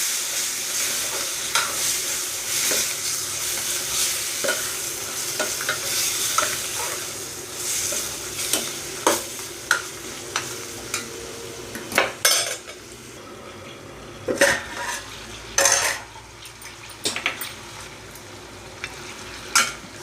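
Chicken with salt and turmeric being stirred and fried in a pan for a cashew-almond curry, with a continuous sizzle and repeated clinks and scrapes of a spoon against the metal.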